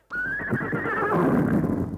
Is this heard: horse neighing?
yes